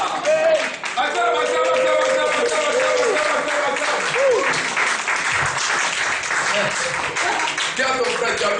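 A church congregation applauds and cheers loudly during worship, a dense, steady wave of clapping with voices rising through it, sustained without a break from start to finish.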